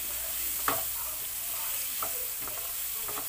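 Chopped onion sautéing in a pan for an egg curry, a steady broad sizzle filling the background with a few soft stir clicks from a utensil, moderately close and without talk.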